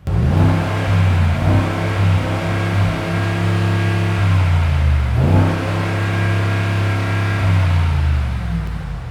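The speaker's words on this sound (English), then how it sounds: "I'm going to do a sound test for you guys to show you how beastly and aggressive this car actually sounds." A Mercedes G Wagon luxury SUV engine revving hard near the microphone, rising in pitch, dropping briefly, then climbing again, loud and aggressive with a deep growl and no speech.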